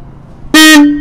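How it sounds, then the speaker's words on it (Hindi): A repaired motorcycle horn sounds once, a loud steady honk of about half a second that starts abruptly after low background noise. "देखो हॉर्न हमारा वही है, मैं आपके सामने बिल्कुल लाइव दिखा रहा हूँ।"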